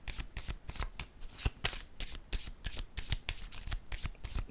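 A deck of oracle cards is shuffled by hand, a steady riffling run of quick close papery flicks and slaps that continues without pause, with no voices.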